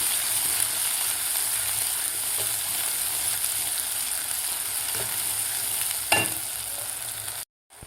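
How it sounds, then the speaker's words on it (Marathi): Masala is sautéed in a pan for a soybean curry, producing a steady, even sizzling hiss with a brief clatter near the end before the sound cuts off abruptly. "मसाला आपला व्यवस्थित परतून झालेला आहे."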